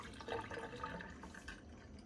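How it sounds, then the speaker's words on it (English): Water sloshes faintly in a container being quickly rinsed while preparing gold size for gilding, a soft, brief splashing and trickling close by. "Give it a quick rinse."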